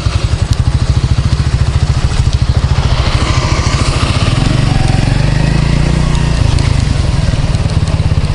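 Mini bike engine running during a ride, a loud close rapid putter throughout that rises in pitch partway as the throttle opens, steady and continuous with no talking.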